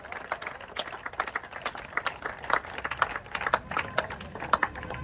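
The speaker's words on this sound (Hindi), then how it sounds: "आते रहे, तालियां बजाते रहे" A crowd claps to welcome the chief guest at an Independence Day programme, a scattered, fairly faint patter of hands with uneven bursts and no clear rhythm.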